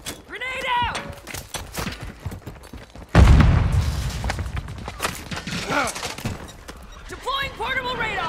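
Call of Duty MWII squad gameplay with a loud grenade-like blast partway through, followed by a rumbling tail and scattered gunfire, with voiced game callouts heard before and after.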